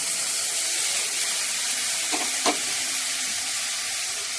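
Mashed boiled banana stem frying with fried potatoes and spices in a pan, a constant close sizzle with a couple of faint spoon knocks partway through and no speech.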